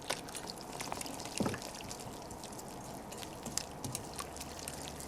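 Water poured into chicken batter in a kitchen bowl, a faint, soft trickle and splash running for a few seconds with small drips near the end, heard alone without talk.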